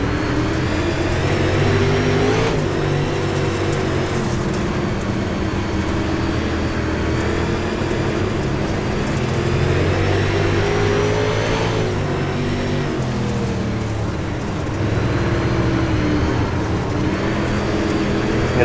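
Race car engines roaring steadily through a UMP heat race at Volusia, loud and close with engine pitch rising and falling across the laps.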